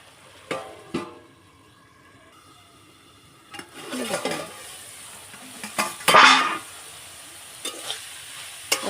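Elephant foot yam stalks cooked with coconut are stirred in a hot pan, with intermittent scraping strokes of a spoon and a sizzle of frying, a louder burst of stirring near the end.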